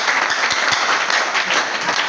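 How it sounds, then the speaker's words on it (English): Students in a class clap for a classmate, a brief dense burst of clapping at steady volume with no talking. "Clap for him."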